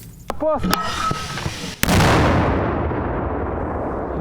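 A mortar fires on enemy trenches during fighting in a forest. There are a few sharp reports, then one loud, close blast whose roar fades over several seconds.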